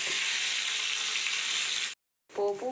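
Curry leaves drop into hot oil for a tempering of mustard and cumin seeds for Nellore-style ginger pickle, crackling in a loud, continuous sizzle. It cuts off briefly before a voice speaks at the end.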